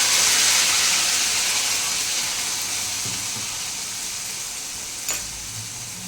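Steady sizzling and frying of a garlic tadka with spinach and paneer as gravy goes into the hot pan, a bright continuous hiss fading slightly, with a brief splash near the end.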